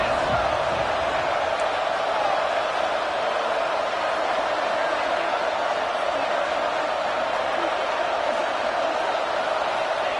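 Stadium crowd in a College Football 25 game roars steadily as the defense holds in the red zone, a dense, sustained cheer with no breaks across the whole stretch.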